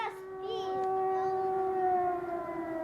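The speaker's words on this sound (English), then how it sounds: "Air raid sirens and artillery." An air raid siren wails steadily in Ukraine, holding a sustained tone that swells slightly and then settles, loud and close with no pauses through the whole stretch.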